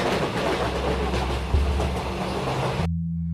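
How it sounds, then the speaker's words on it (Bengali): A train roars along the tracks at night, a loud, steady rumble with a clattering rhythm that cuts off abruptly near the end, leaving only a low hum. "ট্রেন আবার গর্জে ওঠে।"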